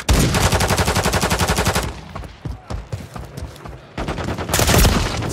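Rapid automatic gunfire in a Call of Duty game, a loud, close burst of evenly spaced shots that breaks off into scattered single cracks and clatter before another heavy burst resumes.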